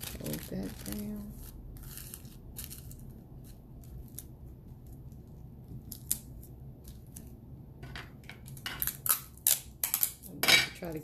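Thin tissue paper being folded and handled by hand during a craft project, with light rustling and crinkling that grows into sharper bursts toward the end, mixed with intermittent quiet speech.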